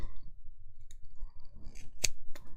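Scissors cut oval cards in half, giving a few sharp snips and light clicks against a quiet background, with one crisp close cut standing out.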